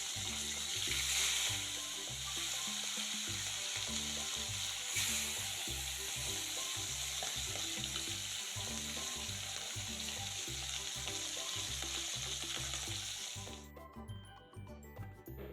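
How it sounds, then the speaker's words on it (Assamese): Fish frying in oil in a hot wok, a steady loud sizzle with bubbling and crackle that runs throughout and eases off at the very end. "তো ইয়া কেৰাহী গৰম হৈ গৈছে মই এতিয়া মাছখিনি ভাজি লম আগতে"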